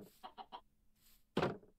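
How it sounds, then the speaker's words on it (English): A Minecraft chicken clucks close by: four quick, evenly spaced clucks, a short pause with faint hiss, then one louder, fuller cluck, with no talking. "Oh, another chicken."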